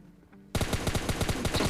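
Rapid automatic AKM rifle fire in the mobile shooter PUBG Lite, a sharp burst of evenly spaced shots that starts abruptly after a brief quiet moment and continues loud and close.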